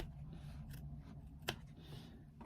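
Scissors snip foam away from a sewn seam allowance in two quiet, separate cuts against a faint background hum.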